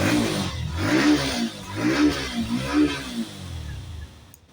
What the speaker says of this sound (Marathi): आता सध्या मी तुम्हाला फक्त गाडीचा साऊंड ऐकून देतो गाडीचा कसा आहे तो